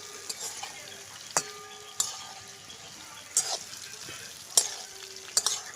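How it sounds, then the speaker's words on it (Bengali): Pointed gourd (potol) fries in a pan while pieces are lifted out: a faint, low sizzle punctuated by a few sharp, sporadic clinks of a spatula against metal. "পটলটা ভাজা হয়ে গেছে, পটলটা উঠিয়ে নিলাম"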